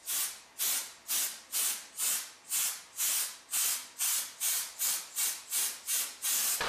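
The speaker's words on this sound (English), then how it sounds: "so I'll try to keep my airbrush as straight as I can" An airbrush sprays paint in short, evenly spaced bursts, about a dozen sharp hissing puffs in a steady rhythm, close and fairly loud with no talking.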